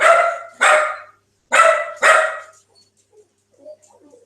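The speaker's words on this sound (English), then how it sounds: "Sorry, barks at everything." A dog barks at home, four sharp loud barks in two pairs, then a few faint scattered sounds.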